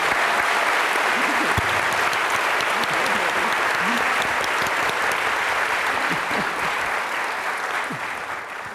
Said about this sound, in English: round of applause for Judy, Ramona, Neil, Michael